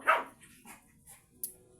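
A single dog bark pops out near the start, followed by a few softer yips and whimpers in a quiet room.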